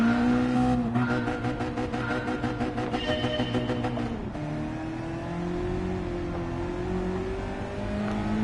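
A race car in Gran Turismo 7 on a lap challenge screams through high revs, drops pitch sharply as it shifts or brakes, then climbs again with tires squealing, loud and close with no voices.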